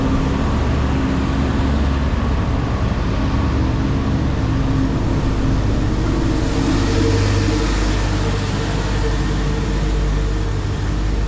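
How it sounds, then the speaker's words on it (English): Two tour buses pass on a street in Macau with a steady, loud engine rumble and road noise. The drone grows slightly heavier partway through and runs on without any talk. "Those are 2 group buses too."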